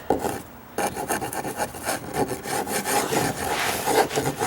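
Sandpaper rubs in quick back-and-forth strokes over a gouge on old wooden deck stairs, a loud close rasping scrape after a short quiet start, with no talk.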